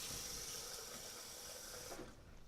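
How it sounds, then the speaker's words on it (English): Water running into a blender jar over a layer of almonds while making homemade almond milk, a steady splashing pour that cuts off near the end, close and fairly quiet. "Then you're going to fill it just above the level of almonds with water."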